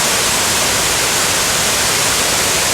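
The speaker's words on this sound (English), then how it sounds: "Side to side, white water, full of life, and full of noise." Broad, steady roar of white water pouring side to side across Benlister falls, a close, loud and unbroken rush with no voices over it.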